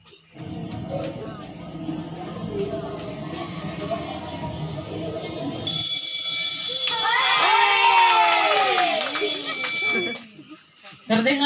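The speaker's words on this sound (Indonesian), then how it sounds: "Terdengar bunyi bel tanda sekolah telah usai." A school bell rings to mark the end of the school day during a church youth drama performance. After a stretch of spoken dialogue, a loud electric ringing starts and holds for about four seconds, then cuts off.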